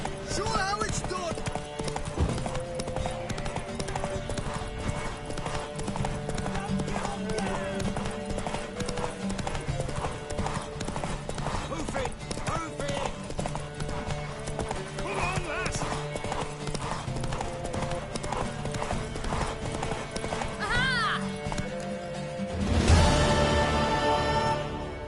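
Hooves clip-clop steadily as a horse gallops in The Witcher III, a continuous driving beat under a game music score, with a horse whinny and a louder burst near the end.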